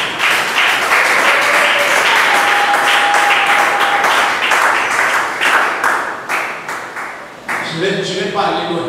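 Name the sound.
congregation applauding for Jesus Christ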